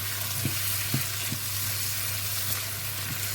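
Vermicelli and onion sizzle steadily in a pot for Senegalese thiebou yapp, with a few soft knocks of a spoon stirring the mixture over the constant frying hiss.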